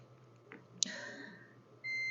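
A multimeter on continuity test, probed across the circuit board of a Samsung J1 (2016) phone that will not power on or charge, gives a steady, sustained beep near the end after a few faint clicks and handling sounds.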